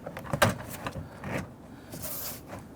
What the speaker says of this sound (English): Lift up the door panel